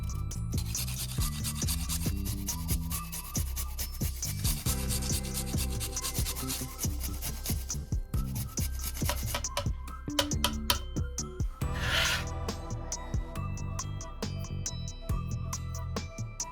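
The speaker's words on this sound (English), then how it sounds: "grab a small piece of ginger, grate about half a tablespoon and throw it in" Fresh ginger is rubbed against a grater for prawn toast, making a close, continuous rasping scrape with a quick stroke rhythm that runs steadily throughout.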